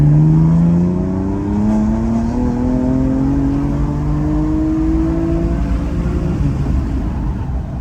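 A tuned BMW M4 Competition accelerates hard on a straight road, its engine note climbing steadily through the revs, loud and heard from inside the car.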